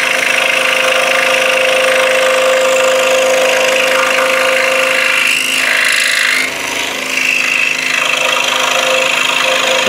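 A power saw blade cuts wood for a wooden toy dump truck, loud steady motor whine with grinding cutting noise that briefly dips mid-cut before resuming.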